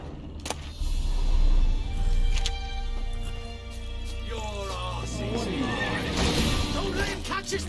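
Geralt's horse Roach in The Witcher video game, a loud whinny rising and falling near the end, with hoof clip-clops and game noise around it and someone talking earlier.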